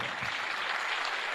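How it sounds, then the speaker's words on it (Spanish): Brief burst of congregational applause inside a church, a dense wash of clapping from many people, moderately distant and short. "Dele un aplauso a Jesús, por favor."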